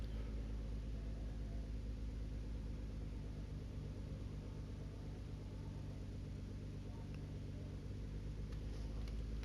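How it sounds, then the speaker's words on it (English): Nissan GT-R Nismo GT3 race car engine idles in The Crew 2, a steady low, throbbing rumble with a faint pulsing rhythm, loud and continuous, with no talk. "that idling sound of this engine is absolutely incredible"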